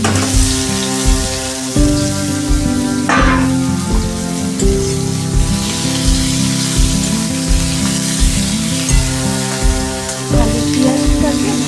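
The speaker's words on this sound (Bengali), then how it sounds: "ওই তেলেতেই আলু আর পেঁয়াজ কেটে ধুয়ে রেখেছিলাম ওটা দিয়ে দিলাম।" Chopped potatoes and onions fry in oil with a loud, constant sizzle and crackle, close up, while music plays steadily underneath.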